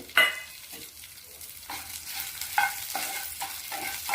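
Seven dried chillies, curry leaves and chana dal roast in oil in a pan for pirandai chutney. A soft sizzle is broken by repeated scraping strokes of a stirring spoon, with no talk.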